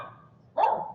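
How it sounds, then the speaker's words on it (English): A pet dog gives a single short bark at home, close and fairly loud, cutting in after a quiet stretch. "Oh, there's my dog."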